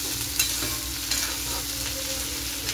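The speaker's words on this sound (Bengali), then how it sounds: "আর এখন বিনস ভেজে নিচ্ছি" Beans fry in a pan with a steady sizzle, and a utensil stirs them with a few scraping knocks, close up in a home kitchen with no talking.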